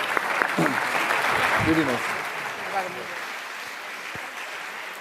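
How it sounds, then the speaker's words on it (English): Applause from the audience at the Bled Strategic Forum, a dense wash of clapping running under a voice speaking close by, gradually easing. "This is your applause."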